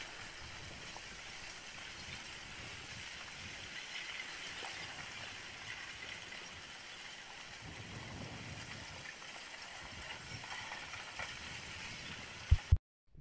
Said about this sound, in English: sometimes you notice a strange sound with these craggy, rough lava flows